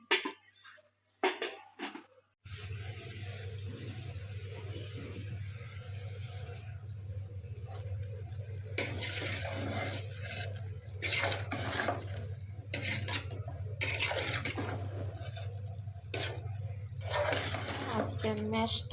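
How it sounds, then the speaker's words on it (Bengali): A spoon scrapes and clinks inside a pot of sour curry made with prawns, with intermittent stirring strokes over a steady low hum and a person speaking throughout. "আজকে মেষ্টার গোটা দিয়ে টক রান্না করতেছি চিংড়ি মাছ দিয়ে।"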